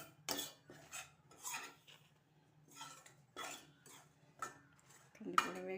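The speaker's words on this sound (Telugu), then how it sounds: "ఇప్పుడు ఇందులోనే కందిపొడి ఇలా వేయించేసుకోవాలి." A spoon scraping and tapping against a pan as toor dal powder is dry-roasted, in short separate strokes about every half second, fairly quiet and close.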